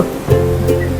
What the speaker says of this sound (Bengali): আমরা এখন চলে এসেছি সমুদ্রের তীরে